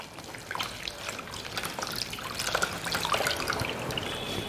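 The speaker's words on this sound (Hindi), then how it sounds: "उसको हमें बहुत ज़्यादा कस के नहीं निचोड़ना है, थोड़े हल्के हाथ से निचोड़ना है" A wet towel is gently wrung out by hand, water trickling and dripping steadily nearby, the flow growing slightly heavier toward the end, with no speech over it.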